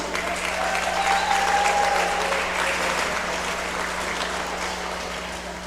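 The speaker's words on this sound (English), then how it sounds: "Let's cheer loud for our Tom and Jerry inspired cat and mouse team." Audience at a county fair sheep and goat show cheers and applauds steadily, a dense wash of clapping with a few whistles rising near the start, then easing slightly over several seconds.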